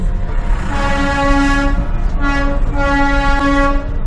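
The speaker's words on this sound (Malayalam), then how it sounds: "ഡാർജിലിംഗ് ടോയ് ട്രെയിൻ ഔദ്യോഗികമായി ഡാർജിലിംഗ് ഹിമാലയൻ റെയിൽവേ DHR എന്നറിയപ്പെടുന്നു" A Darjeeling Himalayan Railway toy train running through the hills at night, its horn sounding in long sustained blasts with a short break between them, loud and close over a constant rumble of the moving train.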